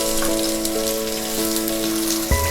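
Chinese cabbage, capsicum, zucchini, carrot and broccoli sizzle in half a tablespoon of olive oil in a pan for a chicken stew, giving a steady, close crackling hiss with a faint stir near the end.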